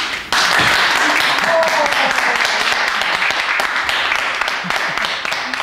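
A studio audience applauding in a French television show, with sustained, fairly loud clapping.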